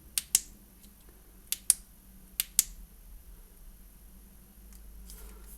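The tail cap switch of an Acebeam L35 tactical flashlight is clicked six times in three quick pairs. Each sharp, close snap is spaced about a second apart over a quiet background, followed by faint handling noise.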